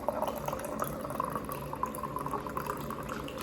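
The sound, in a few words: pouring coffee into a cup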